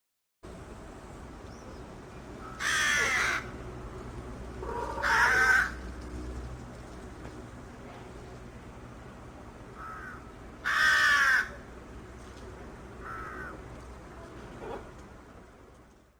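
Crows caw in a few loud, harsh calls spaced several seconds apart, with fainter caws between them over a steady outdoor rumble.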